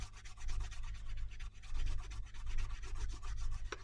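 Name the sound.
rubbing paper edges to add grunge in a junk journal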